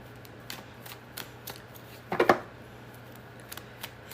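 A psychic medium shuffles her reading cards, giving soft scattered card flicks and taps with one brief, louder riffle burst in the middle, close and alone with no talk.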